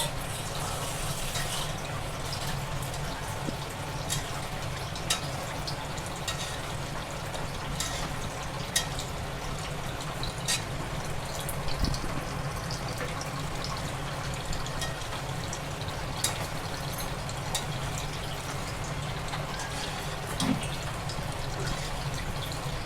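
Water poured into spice masala for a chicken dish, a steady liquid splashing and trickling close by with occasional clinks, continuous for a long stretch.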